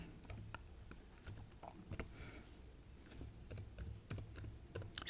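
Soft, irregular keystrokes on a computer keyboard during a lecture, quiet and close, with scattered clicks and short pauses.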